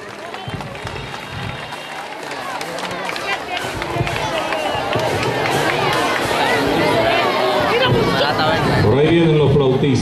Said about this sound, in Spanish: Recibamos con fuerte aplauso.